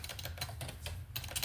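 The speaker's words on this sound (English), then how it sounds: "I'm typing here too because I'm looking something up that I want to talk about." Someone types quickly on a computer keyboard, with soft keystrokes in close, steady bursts. The typing is near and fairly quiet.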